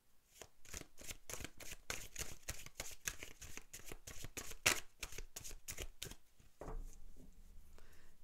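Tarot cards are shuffled in a steady series of rapid riffling, slapping bursts, about two per second, heard close and without voices.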